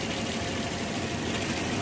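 Toyota Vios limousine, a former taxi, idling with the hood open, giving a steady, even engine hum heard close and alone without any pauses.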